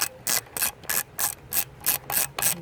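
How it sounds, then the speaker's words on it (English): Hand ratchet tightening bolts on a 2002 Acura TL during a rough idle repair, eight quick, even clicking bursts in a steady back-and-forth rhythm, close and clear with no talking. "just crisscross would be the best thing to do it, just so that you know you're actually tightening it up"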